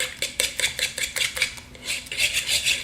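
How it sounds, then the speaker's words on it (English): Fork briskly whisking eggs in a bowl for homemade dog treats, a rapid run of bright metallic scraping and clinking strokes in an even rhythm, close and crisp with no voices. "I have a fork here. I'm just going to mix these up on the side"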